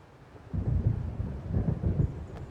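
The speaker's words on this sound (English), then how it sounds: "It seems there's a storm coming." A low rumble of thunder rolls in from an approaching storm in Alan Wake, a deep swelling boom that builds and lingers, fairly loud and heard on its own without talk.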